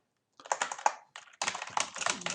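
Rapid typing on a computer keyboard, a burst of close, crisp key clicks with a short pause and then a second, denser run of keystrokes, heard alone.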